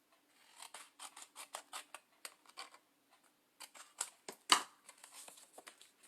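Scissors trimming paper for a scrapbook album, a quick series of crisp close snips in two clusters with a short pause between, quiet background otherwise.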